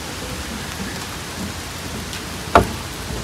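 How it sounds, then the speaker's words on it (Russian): Steady rain hisses down among trees near a cottage settlement, an even wash of drops broken by one sharp, brief thunder crack near the end. "Ну, есть своя прелесть под дождем."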